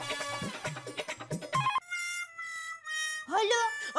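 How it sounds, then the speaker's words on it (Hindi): A telephone ringtone sounds during a call, a steady electronic tone sequence with clear sustained notes between spoken voices, briefly alone before talk resumes. "मैं सोडी को फोन कर दूँ कि वो जीप लेके कंपाउंड में आ जाए।"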